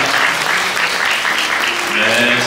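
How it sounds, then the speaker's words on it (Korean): Wedding guests in a banquet hall applaud during the ceremony's proposal moment, a full, sustained round of clapping filling the room with some voices and background music mixed in. "여러분, 이럴 땐 사랑의 박수가 필요합니다. 박수 부탁드립니다"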